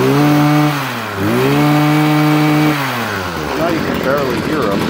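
A Stihl chainsaw engine runs loud and close, its pitch holding steady, dipping briefly, then climbing again in changing revs.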